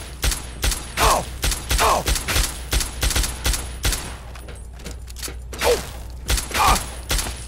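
Gunfire in the Fallout 3 PC game: a rapid series of sharp, loud shots in uneven bursts, close and punchy, with short gaps and a few mechanical clanks between them.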